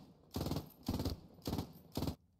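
An MG42 machine gun fires in the video game Post Scriptum: four short, sharp bursts of rapid automatic fire in even rhythm, close and loud, then quiet.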